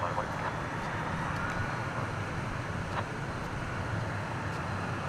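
Avianca Boeing 777 in Star Alliance livery approaching Dallas Fort Worth International Airport, a steady distant roar of jet engines that holds an even level throughout.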